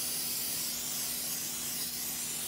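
Cooking spray hisses onto a pan before grilled cheese is made, a steady close aerosol jet holding for a few seconds without pause.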